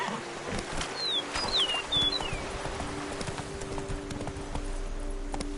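A horse gallops in The Witcher 3: Blood and Wine, its hooves making a steady, fairly close clip-clop rhythm throughout, with a few faint bird chirps above.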